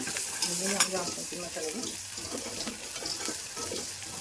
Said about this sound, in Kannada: ಬೆಳ್ಳುಳ್ಳಿ ಹಾಕ್ತಿದ್ದೀನಿ ಸ್ವಲ್ಪ